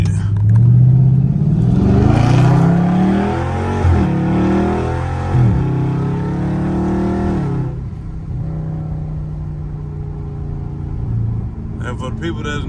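A Dodge Charger Scat Pack with a catless exhaust revs and accelerates with a deep, raspy roar through repeated gear pulls, then settles to a rumbling cruise in traffic; a voice talks over it.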